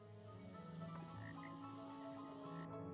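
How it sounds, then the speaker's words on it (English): Poison-spitting toads in the PS2 game Lemony Snicket's A Series of Unfortunate Events croak steadily in a low, continuous chorus, faint and layered over a constant ambient bed. "I read about these toads in Monty's books."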